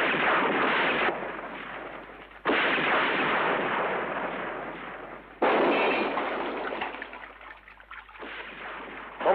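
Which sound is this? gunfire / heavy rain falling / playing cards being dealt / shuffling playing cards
gunfire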